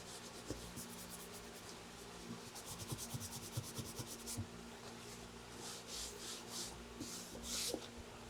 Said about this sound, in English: we take our Scrub Ninja after a short dwell time, and we start to agitate that surface